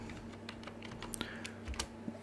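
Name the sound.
typing on a computer keyboard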